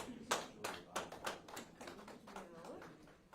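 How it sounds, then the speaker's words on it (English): A small group claps at a press conference, a quiet, sparse patter of about eight or nine distinct hand claps spread over a few seconds. "And I'm going to give her a round of applause."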